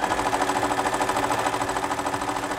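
A sewing machine stitches quilting through a scrap fabric block, a steady fast mechanical rattle with a regular pulsing rhythm, close and continuous, with no voices.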